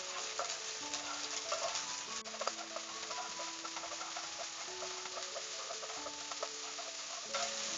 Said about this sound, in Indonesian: Kemudian kita tumis sebentar jamur kuping.